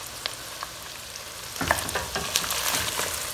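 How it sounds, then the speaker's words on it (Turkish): Meat for kavurma frying in a pot is stirred, first with a light sizzle and a few clicks, then with louder scraping and crackling as the pieces are turned, close by and with no talking. "Şöyle bir karıştırıyorum."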